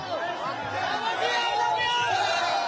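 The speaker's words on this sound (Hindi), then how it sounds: "काफी भीड़ है।" A large crowd at the Hindu unity march gathering in Faridabad, a dense, continuous babble of many voices chattering and calling out at close range, with no single voice standing clear.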